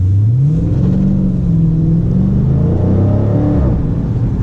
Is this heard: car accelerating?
yes